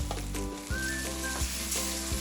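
Spiced chicken hits fried onions in a hot pan and sizzles loudly and steadily, with a low electric hum underneath and a few dull knocks from the pan, close by and with no talking.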